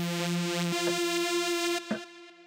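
A bright, buzzy supersaw synth lead with body processing holds steady sustained notes with a few quick note changes, moderately loud and alone, ending in a short flourish.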